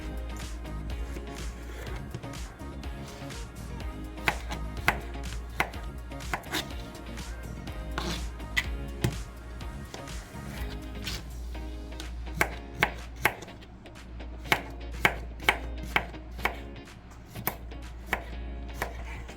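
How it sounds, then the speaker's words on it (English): A knife chops vegetables on a cutting board in quick, irregular runs of crisp taps, close by, with a low hum in the background. "while I'm chopping"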